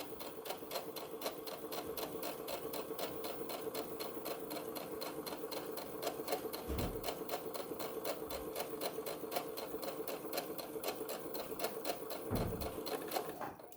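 A sewing machine back stitching along the folded edge of a tote bag, a steady fast mechanical whir with even needle ticks running close and constant, punctuated by a couple of soft low thumps.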